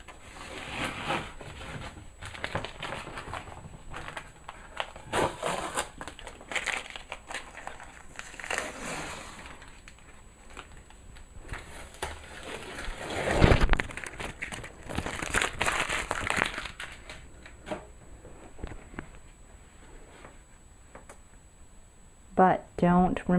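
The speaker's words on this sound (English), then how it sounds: "the last thing I'm going to do is take off this tape" Masking tape peeled off a painting board, with crinkling, tearing strips of tape in bursts, close and moderately loud, alongside occasional handling noises.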